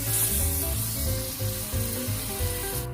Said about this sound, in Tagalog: we have to use the butter to fry the shrimp first